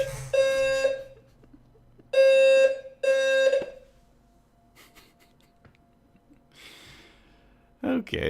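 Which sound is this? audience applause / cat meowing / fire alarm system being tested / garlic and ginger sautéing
fire alarm system being tested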